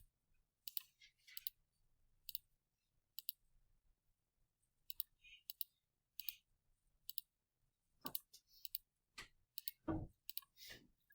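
Light plastic clicks of calculator keys being typed, quick irregular taps in short bursts, close and crisp, growing busier and slightly louder toward the end.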